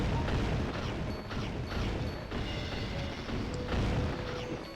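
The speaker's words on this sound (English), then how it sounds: "It sounds like a bunch of gunshots." Repeated loud gunshot-like bangs in the video game Scooby Doo: Night of 100 Frights, a rapid irregular volley of booming cracks and crashes that fills the whole stretch with no speech.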